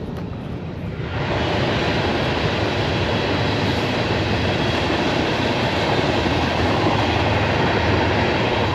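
A freight train with a mid-train locomotive rolls past close by, a dense steady roar of wheels with a rhythmic clickety-clack over the rails, continuing without letup.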